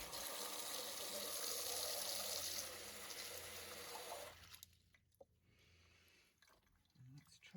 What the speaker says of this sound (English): I'll put a little more water.